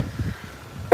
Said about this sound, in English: Says the girl with the cold, and she's still coughing.